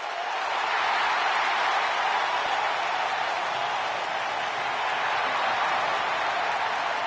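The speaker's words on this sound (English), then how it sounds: "And Michael, it sounds to me like this crowd already picked the one who they want to win this match" A wrestling arena crowd in the video game WWE 2K19 roars in a steady, dense wash of cheering and applause at moderate volume, unbroken throughout, with no clear voices on top.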